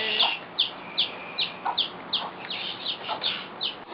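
Backyard chickens cluck again and again, close and fairly loud, short rhythmic calls spaced through the stretch with no speech over them.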